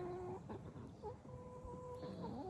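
Chickens clucking nearby, several short warbling calls overlapping against a steady background hum.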